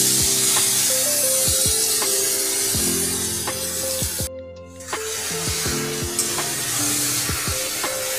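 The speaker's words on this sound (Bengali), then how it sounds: "মশলাটা ভালো করে ভাজা হয়ে গেছে।" A ground spice paste fries in mustard oil with cumin seeds while being cooked into a vegetarian omelette curry, giving a steady sizzle with repeated stirring scrapes and a brief dip partway through.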